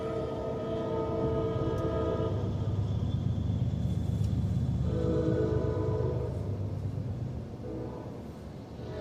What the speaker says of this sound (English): while we waiting on this intermodal train here,